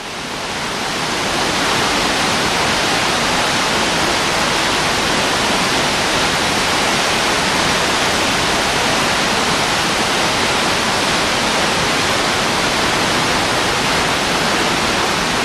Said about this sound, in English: Here's the base of Tower Falls